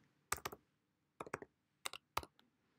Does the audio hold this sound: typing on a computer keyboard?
yes